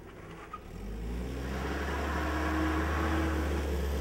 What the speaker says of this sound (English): Try to do a brake stand.